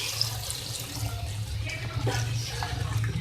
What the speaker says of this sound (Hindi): मैं इसमें ऐड करूँगी 2 गिलास पानी